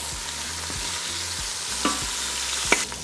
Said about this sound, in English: And we're going to allow that side to sear for another 4 minutes.